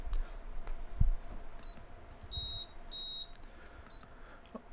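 A Suzuki outboard engine's water-in-fuel alarm panel gives a few short, high electronic beeps. The beeps are spaced apart over faint background hiss, and no one speaks.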